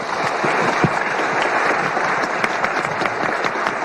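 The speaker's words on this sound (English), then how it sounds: "Let's give Lisa and all the students a big round of applause." Steady, loud applause from a ceremony audience fills the room at an honorary doctorate conferral, dense even clapping sustained throughout with no voices over it.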